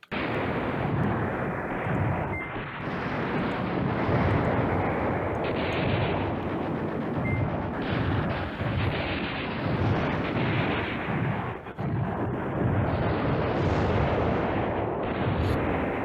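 Airstrike explosions in the war video game Command Ops 2 roll in as a dense, continuous barrage of deep booms and rumbling blasts, loud and sustained with brief dips between heavy impacts.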